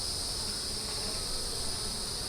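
Honey bees and drones at an open hive make a thick, unbroken buzzing drone, close and steady across the short stretch, with no talking.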